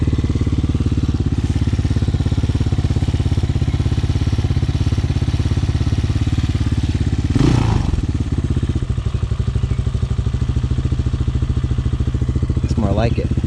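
A Hawk 250 dual sport motorcycle engine idles steadily and a little high, a continuous low throbbing drone running throughout with a brief clattering thump midway.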